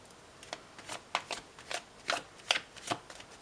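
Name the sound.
shuffling tarot cards for a card reading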